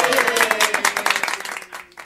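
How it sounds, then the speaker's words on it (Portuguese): Applause from a studio audience greeting a guest on a Brazilian TV interview show, dense clapping for about two seconds that thins out near the end, with some voices mixed in. "Uma salva de palmas."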